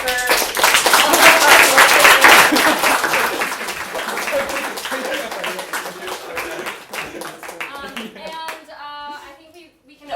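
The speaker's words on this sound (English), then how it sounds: "first round of applause for all of" An audience at a coding bootcamp demo day bursts into loud, dense applause that gradually thins out into scattered claps, with a voice speaking near the end.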